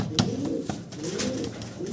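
Soft, low coos of pouter pigeons repeat in a steady murmuring rhythm, close by, with a few brief flutters or knocks between them.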